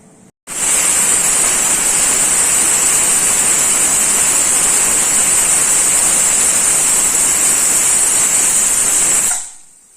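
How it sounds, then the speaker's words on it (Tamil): A pressure cooker whistle blasts steam while cooking idli, a loud continuous hissing shriek that starts suddenly, holds steady for about nine seconds and then cuts off. "ரெண்டு விசில் அடிச்சிருச்சு."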